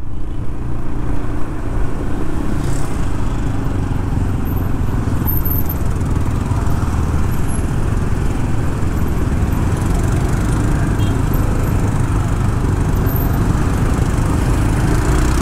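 A Vespa scooter engine buzzes steadily on a street in Denpasar, Bali, a continuous loud motor drone with road traffic mixed in throughout and no clear pauses.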